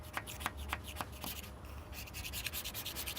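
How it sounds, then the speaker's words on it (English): A Scotch-Brite pad scuffs the painted roof of a Sprinter van, giving repeated short rubbing strokes that grow into a denser, continuous scratchy rasp. The sound is quiet and close, with no talk over it. "And then I'll probably run over this with that Scotch-Brite pad again."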